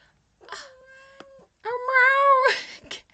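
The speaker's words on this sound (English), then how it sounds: "I guess there's a kitten who may be joining us for class." A kitten meows twice up close, a short high mew followed by a longer, louder drawn-out cry, with a small click between them.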